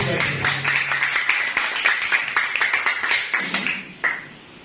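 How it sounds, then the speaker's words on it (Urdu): A congregation claps during a church sermon, producing loud, fairly rhythmic clapping that holds steady for several seconds before tapering off abruptly. "اس کے لیے تالیاں"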